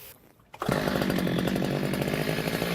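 After a brief quiet moment, a gas-powered cut-off saw with its water feed on roars to life nearby and keeps running loudly at a steady, buzzing idle.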